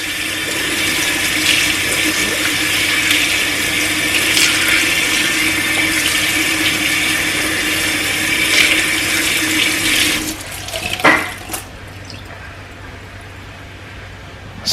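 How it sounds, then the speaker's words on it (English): Makeup sponges washed on a brush mat under a running tap, a steady close rush of water that cuts off near the end, leaving a few drips and small clatters. "it actually helped to wash the sponges as well and get them clean."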